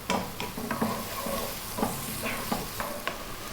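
Onion and carrots stir-fry over high heat for vegetable fried rice, a steady close sizzle with repeated scraping stirs of the pan at a brisk, irregular rhythm.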